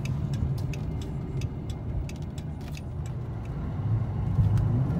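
A Dodge Charger 5.7L V8 police pursuit car drives along with a steady low engine and road rumble, while light metallic jingles, like rattling keys, sound from inside the cabin.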